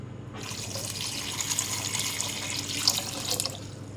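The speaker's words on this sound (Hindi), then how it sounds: "इतना पानी डालना है कि आलू डूब जाए।" Water pours steadily into a cooking pot of washed, peeled and thickly cut potatoes, a continuous rushing stream lasting several seconds with no talking before it stops.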